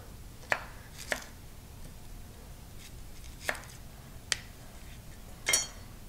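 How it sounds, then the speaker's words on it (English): Yellow onions are cut on a board with a knife in five sharp, separate chops, spaced unevenly over a few seconds against a quiet kitchen background. "we're going to chop up 2 yellow onions"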